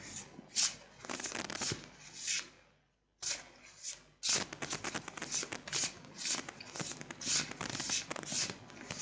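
Tarot cards shuffled by hand up close, a rapid riffling and sliding texture in bursts with one brief pause, quiet and alone.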